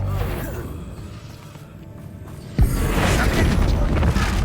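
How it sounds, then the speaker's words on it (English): A Bombarda spell blast in Hogwarts Legacy, a single sharp booming explosion followed by a loud, sustained rumbling roar of debris in a game scene. "Bombarda."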